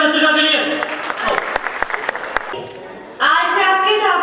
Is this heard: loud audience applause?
yes